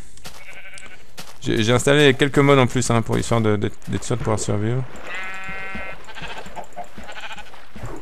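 Sheep in a Minecraft modpack bleat several times in a quick, wavering burst, loud and close, followed by a higher electronic-sounding tone, while someone speaks French over them.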